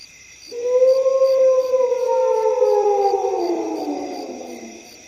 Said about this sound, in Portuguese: podia até jurar que ouviu, ao longe, um uivo triste, ou seria só o vento